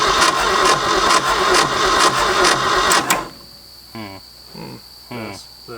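An abandoned Ford F250, dead for 26 years, cranks and catches with a loud, steady mechanical roar, then cuts off abruptly, leaving quieter bursts of talk.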